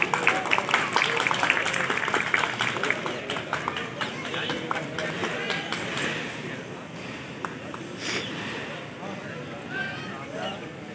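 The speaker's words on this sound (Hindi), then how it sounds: "इन दोनों बॉक्सर्स के लिए जोरदार तालियां" Dense applause from an audience at a boxing event, honoring two boxers: steady, close clapping that starts strong and tapers slightly, with voices mixed underneath throughout.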